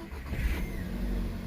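A VW Golf MK6 engine starts up and settles into a quiet, steady idle, heard close by with no talking.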